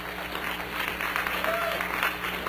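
A brief burst of audience applause and crowd noise fills the room at a hacker conference talk on databases and privacy. Voices mix in as it carries through the short moment.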